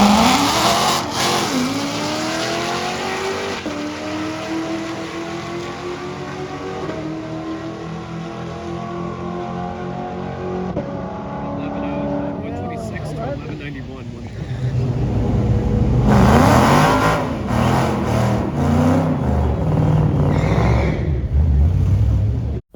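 A Ford Mustang with a Coyote 5.0 V8 at a drag strip, loud engine revving up through gears with rising pitch, then a harsher roar and crackle as another surge hits, with commentary talk over the top.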